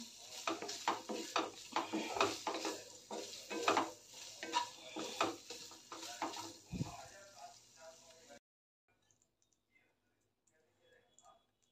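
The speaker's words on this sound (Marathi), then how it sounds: "गोल्डन ब्राऊन होईपर्यंत पनीर परतून घेऊया ते तुपामध्ये।" Paneer fries in ghee as a spatula stirs it, giving repeated clinks and scrapes against the pan over a light sizzle and a voice speaking. The sound stops abruptly, leaving near silence.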